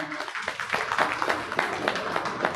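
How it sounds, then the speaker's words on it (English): A crowd at an awards ceremony applauds, with scattered clapping and some voices mixed in, steady and moderately loud throughout. "A round of applause please for them."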